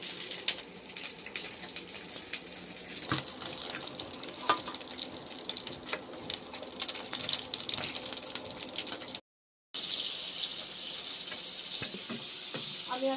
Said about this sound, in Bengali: শাকগুলো আমি এখন ধুয়ে নিলাম